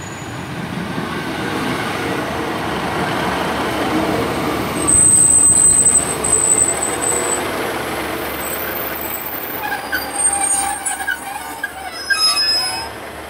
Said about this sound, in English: 150-261, which is heading on the 10:51 to Weston-super-Mare from Bristol Parkway, departing 7 minutes late